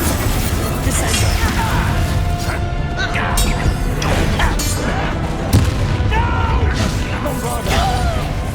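Gameplay from Hogwarts Legacy with a Bombarda explosion spell: a dense, loud, continuous layer of booming blasts and mechanical clatter, with scattered crashes and intermittent voice sounds throughout.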